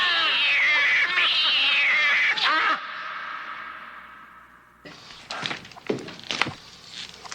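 A cat yowls loudly with drawn-out, wavering meows, then the room falls quiet before a flurry of thumps and footsteps bursts in.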